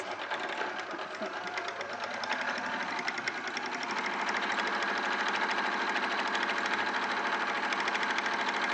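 A sewing machine top stitches a fabric handle with a fast, steady mechanical whirr and rattle that speeds up slightly partway through, running close and alone.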